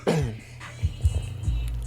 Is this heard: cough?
yes